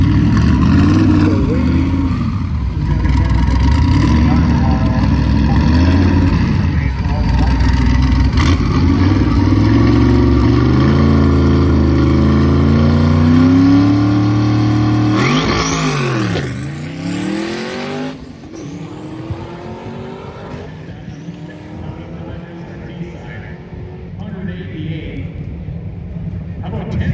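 A street race car at an Indy street car shootout roars hard under load through a drag run, its engine note rising through gears for about fifteen seconds before cutting and fading, with people talking over it.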